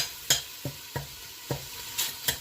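Ground beef sizzles in a pan while a utensil scrapes and stirs it in regular strokes, with a soft continuous frying hiss between about six or seven distinct scraping hits.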